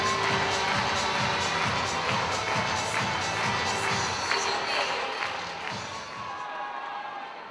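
Ice hockey crowd in an arena roaring and cheering after a goal, a dense, sustained wall of standing fans' shouts and whistles that holds steady throughout and eases slightly toward the end.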